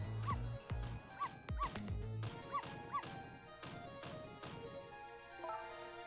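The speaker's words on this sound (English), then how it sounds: "Missile, you're not supposed to bark." Repeated yipping barks from a small dog in the Ghost Trick Phantom Detective video game, several short bursts spaced over game music and sound effects.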